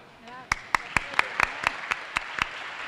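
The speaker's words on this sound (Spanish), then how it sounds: "por favor, párese para que le den un aplauso" Audience in a transparency-week panel hall gives brief scattered claps, about ten sharp separate hand claps at a steady pace after a short murmur of talk, fairly near and modest in volume.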